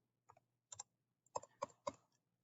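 Keys tapped on a keyboard or calculator while entering numbers: a few soft, separate clicks followed by three sharper, evenly spaced presses, close and quiet with no talk.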